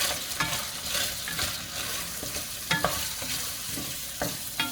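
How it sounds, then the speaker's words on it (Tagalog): Garlic fries lightly in a pan with steady close sizzling while a utensil stirs and scrapes at intervals, giving periodic scraping knocks over the continuous sizzle, with no talk. "Lutuin lang natin ng very light yung bawang."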